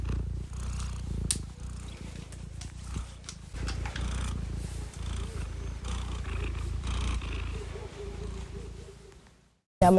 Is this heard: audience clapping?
no